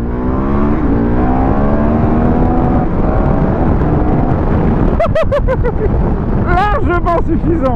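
A 2013 KTM 1190 Adventure motorcycle, 150 hp, running on the road, its engine droning steadily under heavy wind rush, then revving up and down in rising and falling sweeps near the end.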